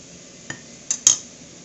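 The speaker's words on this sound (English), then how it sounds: "I'll grab the little spoon and scraping that off" A small spoon scraping chocolate peanut cluster mixture, three short metallic scrapes and clinks, the last the loudest, close up against a quiet background.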